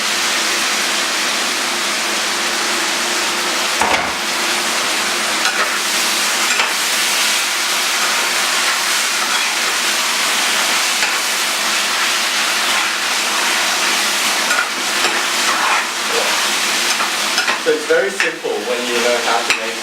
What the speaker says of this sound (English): when you're stir frying, don't be afraid of the pan or utensil, just go for it.